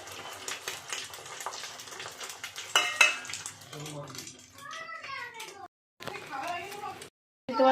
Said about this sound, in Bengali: দেখতে পাচ্ছ ডিম ভাজা হয়ে গেছে।